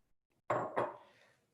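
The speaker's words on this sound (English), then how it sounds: "I'm going to pour that in." A cup of water pours into a bowl in a short splashing gush with a second surge, close and fairly clear, then trailing off.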